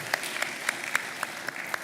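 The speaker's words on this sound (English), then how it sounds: "Please give him a round of applause." Audience at a retail congress awards ceremony applauding, a steady wash of clapping with a few sharper claps popping out regularly through the short burst.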